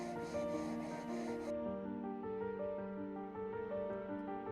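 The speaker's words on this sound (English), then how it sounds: "A little bit of sanding to make the sides nice and smooth" Sanding the sides of a Millennium Falcon model part smooth, a soft steady rubbing rasp close by, continuous and fairly quiet with no talk.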